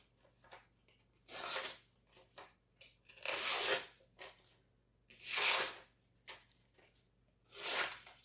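A freshly sharpened kitchen knife slices ribbons from a sheet of paper, giving four distinct crisp rasping swipes spaced a couple of seconds apart, with quiet rustles between them.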